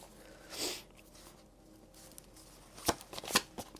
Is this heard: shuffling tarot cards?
yes